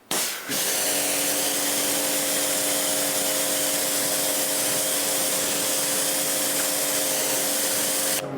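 Steady pressurised water spray rinsing soap off a car's paint and crevices, a loud continuous hiss that runs almost unbroken for several seconds, close by, with no talking.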